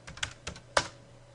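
Keystrokes on a computer keyboard: three or four quick, fairly soft taps close by with a louder final press, then quiet, with no voices.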